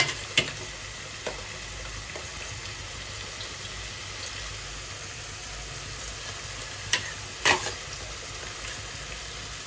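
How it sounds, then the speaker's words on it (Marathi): Prawns coated in turmeric and salt go into frying masala, a steady moderate sizzle with a few sharp clinks and stirring scrapes, heard close and without talk. "आता मी याच्यामध्ये जे मी हळद मीठ लावून कोळंबी ठेवलेली आहे तर मी त्यात ते घालते"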